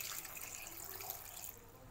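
Water is poured from a tap into a mixer jar holding grated coconut, a steady splashing stream lasting about two seconds with no talk.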